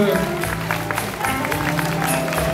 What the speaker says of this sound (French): Allez, on va les applaudir bien fort